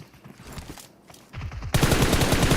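In PUBG Mobile, a UMP submachine gun fires in quick bursts, faint and distant at first, then a loud sustained stream of rapid shots close up, dense and continuous to the end.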